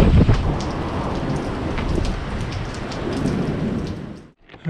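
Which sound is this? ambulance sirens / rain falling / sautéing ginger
rain falling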